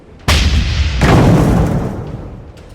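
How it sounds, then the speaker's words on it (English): A heavy main cannon shell fires and slams into a steel ship hull in a sci-fi battle game, a sudden loud boom followed by a second crashing impact that rumbles and slowly fades. "The shell slams into the hull of the Krakeneer, tearing through steel and resolve alike."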